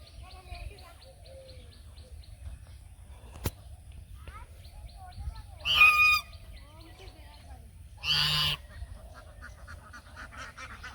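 Ducks near water give two loud, harsh honking bursts a couple of seconds apart over quiet outdoor background, with a few faint chirps in between.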